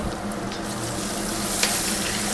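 A big handful of onions and curry leaves sizzle loudly in coconut oil in a ship's galley pan, a steady close frying hiss with occasional stirring scrapes and no talk.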